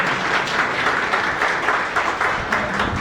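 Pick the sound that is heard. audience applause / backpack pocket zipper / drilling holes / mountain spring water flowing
audience applause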